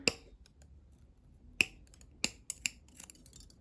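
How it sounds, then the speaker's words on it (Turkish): Scissors snip through macrame cord in a handful of sharp, close, isolated clicks spread irregularly over a few seconds against a quiet background, with no talking. "makasımızı takıp kesip çıkartıyorum."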